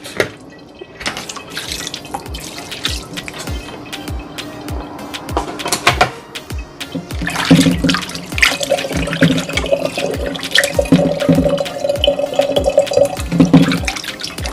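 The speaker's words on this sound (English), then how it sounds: "So you wanna wash your meat nice and clean. I'm gonna add some vinegar to it." Three pounds of oxtail are washed by hand with water and vinegar in a sink or bowl, with repeated wet splashes, drips and rinsing squelches, close and fairly loud, no speech.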